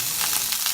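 Brief burst of loud, even sizzling from a pan on high heat, food sautéing with a constant close crackle and no voices.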